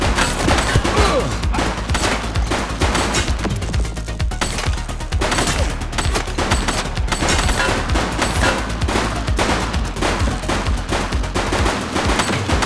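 Gunfire in The Precinct, a sustained burst of rapid shots and automatic bursts, loud and dense, continuing almost without pause.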